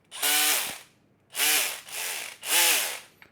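A DeWalt DCD706 cordless drill spins freely in percussion mode at setting 3, giving three loud, rasping hammer bursts of about a second each with short pauses between, close by and with no talk.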